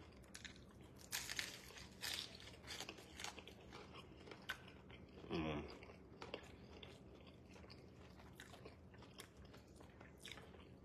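A crunchy egg roll is bitten and chewed close up, with crisp crackling bites and quieter munching spread across the clip, faint and unaccompanied by talk.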